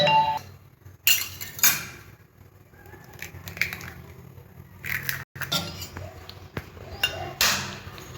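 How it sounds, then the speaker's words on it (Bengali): Eggs are cracked one at a time against a bowl in a kitchen, giving sharp clinks and taps spaced a second or so apart, with a voice talking in between. "এবার আমি ডিমগুলো একটা একটা করে ফাটিয়ে নেব"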